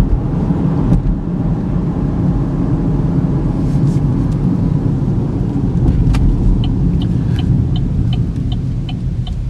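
Steady, loud road and engine rumble from a 2013 Chevy Equinox LTZ front-wheel-drive V6 cruising near highway speed, with a continuous low drone, tyre roar and a faint high chirping tone near the end; no talking.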